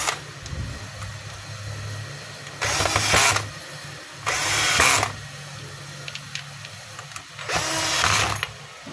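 A Stanley SDH600 1/2 inch hammer drill runs in three loud bursts of roughly a second each, separated by quieter gaps filled with a low steady hum.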